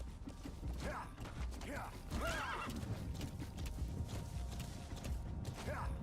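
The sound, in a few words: horse neighing and hooves clip-clopping, from video game Metal Gear Solid V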